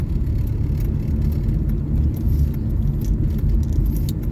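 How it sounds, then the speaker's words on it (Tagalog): Motorized tricycles roll past on a road, a loud, continuous engine rumble with rattling and metallic jingle riding over it, close by and steady throughout with no talking. "mga tricycle na guys oh"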